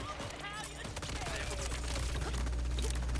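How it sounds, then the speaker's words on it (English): Rapid turret gunfire in a shooter video game, a dense stream of shots mixed with game effects and a voice talking over it. "I'm being shot from every single direction here right now."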